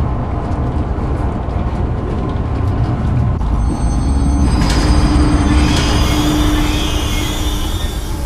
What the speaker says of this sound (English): select the giraffe enclosure on the control panel and start the train